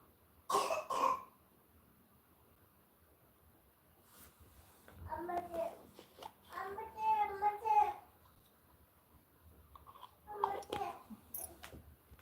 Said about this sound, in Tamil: பிள்ளைக்கு இருமல் அதிகமாக இருக்குது